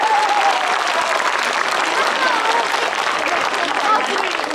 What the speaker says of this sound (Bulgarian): Аплодисменти да чуя за нея как се представя тя.